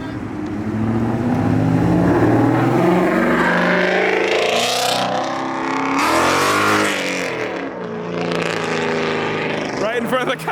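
A Ford Mustang revving hard near the road as muscle cars and supercars pass, loud rising and falling engine roars with a passing swell, while people talk over it.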